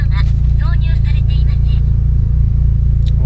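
Steady, loud low engine rumble from a Peugeot 106 S16 car being driven, heard from inside, with a person talking over it throughout.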